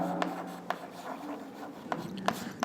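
A pen scratches out math on paper in short strokes and taps, soft and close, with a few crisper ticks as characters are finished and no voice.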